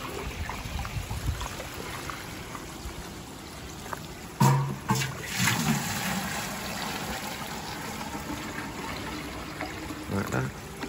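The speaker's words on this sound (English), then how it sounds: "I'm going to just fill this up with some pond water." Pond water being poured and scooped into a container, a continuous close trickle and splash with a louder sloshing burst midway, no one talking.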